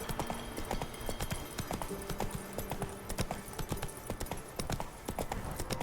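Roach the horse's hooves clip-clop steadily on a road in The Witcher 3, a close, rhythmic trot that runs through the whole stretch.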